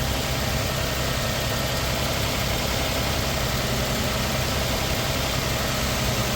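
A 2016 GMC Sierra pickup engine runs steadily during a charging system test, a loud, close, even idle with a constant mechanical hum and no voices.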